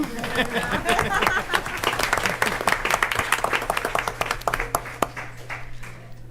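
Planning board members receive a round of applause at a Surf City, North Carolina council meeting, with scattered, uneven clapping from the room, sharp individual claps standing out and a low steady hum underneath.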